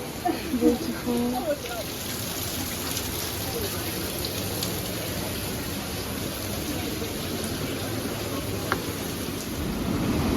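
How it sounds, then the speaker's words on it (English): Steady rain and falling water splash beneath a rock overhang on a wet Blue Mountains walk, a constant dense hiss with a brief voice near the start. "Got to walk over there, under a cave, and it's like rain, waterfall."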